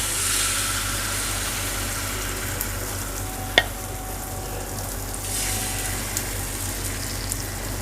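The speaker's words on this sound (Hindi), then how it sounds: "मैंने फिर थोड़ा सा घी डाला है फ्राई पैन में। अब दूसरा पराठा डाल रही।" Egg paratha sizzles steadily in ghee in a frying pan, a close, even crackling hiss with one sharp tap of a utensil partway through.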